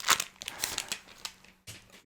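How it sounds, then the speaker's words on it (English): Scissors snip and crinkle through a plastic-aluminium collector booster packet at close range, with a cluster of sharp crackling cuts, a short pause, then one more crinkly snip. "you can probably hear the scissors"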